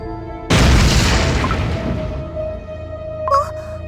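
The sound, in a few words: big explosion in the video game Cookie Run: Kingdom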